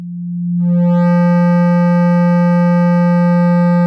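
A steady sine tone is run through a compressor set with no attack or release in FL Studio, starting pure and quickly turning buzzy and harmonically rich as the input rises, then holding loud and constant.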